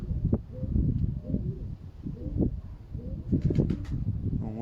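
Pigeons coo low and throaty in a strong wind in Pokrovsk, with a brief flutter of wings near the end, all under constant rushing wind noise.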